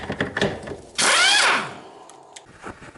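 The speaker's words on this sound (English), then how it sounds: "This one and this one you can hit it with the impact." Impact wrench on a front wheel bearing bolt of a Yamaha Kodiak or Grizzly ATV gives one loud, close burst about half a second long that winds up and then spins down, surrounded by quieter handling noise.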